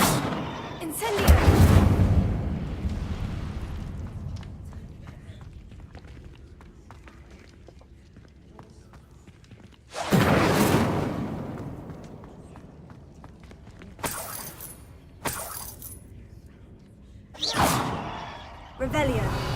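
Incendio fire spell cast in Hogwarts Legacy, several loud whooshing bursts of flame spaced through the stretch, each a broad, sudden blast that fades, with footsteps between them.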